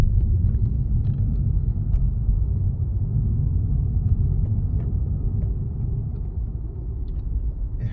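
A used car's engine runs while driving, giving a steady low rumble and road noise from inside the cabin with no talking.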